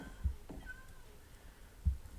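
A recorded cat meow is played back from a device, a short faint mewing cry between two soft thumps, with no one speaking over it.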